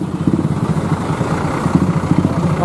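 A Primajasa bus passes on the road through Limbangan, Garut, its engine a steady, fairly close low rumble with a rough, clattering edge that holds for the whole moment.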